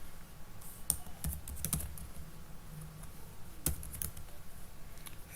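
Someone types code on a computer keyboard, a run of quick, uneven clicks with a few sharper key strikes, heard close up over low background hum.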